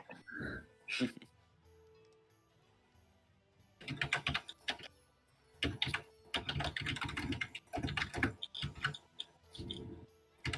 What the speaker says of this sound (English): I'm still typing all this out